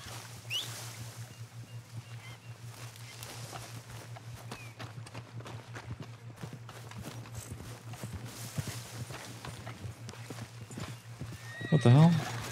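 In Red Dead Redemption 2, a horse's hooves clip-clop steadily at moderate volume, with a louder neigh near the end and faint game ambience and voices underneath.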